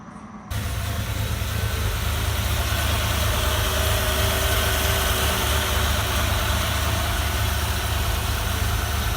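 A Ford Bronco engine sits idling close by. After a brief quiet start, it sets into a loud, constant low rumble with steady vibration that carries on unchanged to the end.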